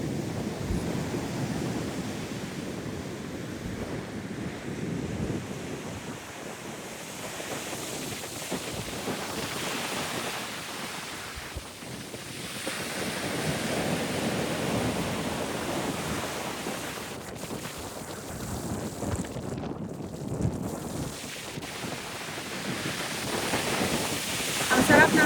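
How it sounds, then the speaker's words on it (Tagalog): Strong wind and rough surf at a beach in the UAE during habagat season, a continuous roar of waves and gusty wind buffeting the microphone, swelling and easing over about twenty-five seconds, with a person talking at times. "sobrang lakas ng hangin at maalon"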